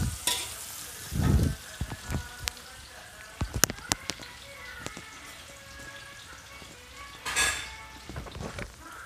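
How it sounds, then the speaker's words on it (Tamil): Onions for anchovy sambal sauté in a pan with a soft, continuous sizzle, punctuated by sharp scraping stirs and clanks and a couple of louder hissing bursts, with no talking. "மொதல் வெங்காயத்தை போட்டு நல்லா வாசம் வர வரைக்கும் சமைச்சிக்கோ"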